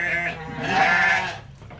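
Sheep bleating while being fed stale vegetables, a single wavering, fairly loud bleat that carries for over a second before fading.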